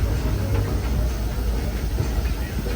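The Disneyland Railroad train rolls along its rails with a steady, close rumble and faint rhythmic rail clatter throughout, and no one speaks.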